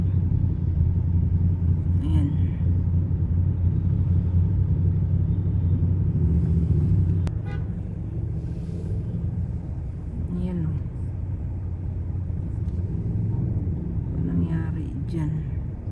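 Heavy road traffic backed up near a truck crash: a steady low rumble of cars and engines with passing vehicle noise throughout, and people talking over it.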